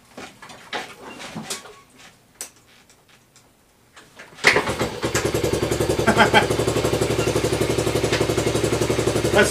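A Honda CT90 motorcycle with an aftermarket carburetor is kick-started without choke. Scattered clatter and knocks come first, then it catches on one kick and settles into a steady, loud, close idle with an even rapid pulse.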